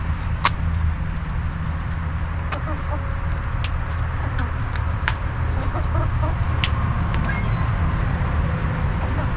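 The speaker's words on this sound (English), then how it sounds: "Look at all them seagulls" Scattered seagull calls ring out over a steady outdoor rumble, with sharp cries popping up irregularly throughout.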